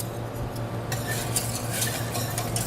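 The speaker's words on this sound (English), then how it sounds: "I'm going to take and whisk this" An egg and lemon juice mixture is whisked in a pot, a rapid, continuous scraping and clinking of metal against metal, close and fairly loud, with quick irregular strokes and no talking.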